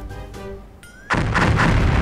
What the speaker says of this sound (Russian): Сейчас усилится настолько взрыв